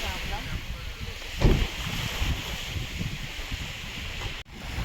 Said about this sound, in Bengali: ওই দিকটা হাওয়া ছিল না এখানে সুন্দর হাওয়া আর এই যে সমুদ্রের পাড়ে একদম